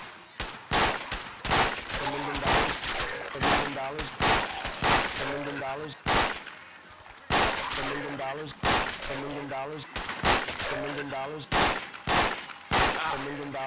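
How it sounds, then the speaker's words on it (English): Full-auto gunfire in Fallout 4, repeated loud bursts of rapid shots with brief pauses between them, continuing steadily throughout, with game sounds underneath. "If you people think this gun is not full auto, it is."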